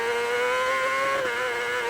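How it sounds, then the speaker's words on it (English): A racing motorcycle engine holds a high, steady rev at the Isle of Man TT, its whine wavering slightly as the bike jolts over bumps entering Kirkmichael, loud and close. "you hear the vibration of the bike here on the revs as we go over these bumps"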